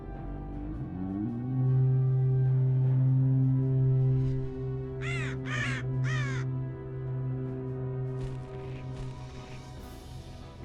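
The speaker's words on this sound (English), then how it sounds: "Let the storm crows fly once again upon the winds of war." Storm crows in Warcraft III, recreated in StarCraft II, give three harsh caws close together in the middle, over a loud sustained musical drone.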